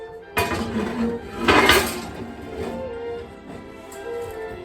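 A cast iron bread pan is slid into an oven: a sharp metallic clank, a louder scraping rattle a second later, then a quieter ringing and shuffling of metal.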